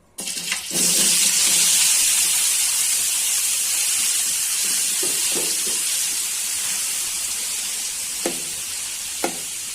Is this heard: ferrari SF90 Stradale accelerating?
no